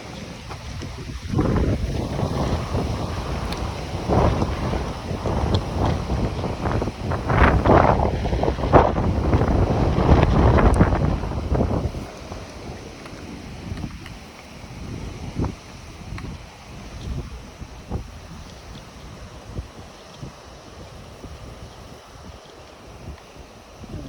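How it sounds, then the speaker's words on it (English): Strong wind buffets the microphone on the Appalachian Trail near Boiling Springs, in heavy rumbling gusts, loudest early on, then easing to a steadier, lighter rush of air. "It's windy."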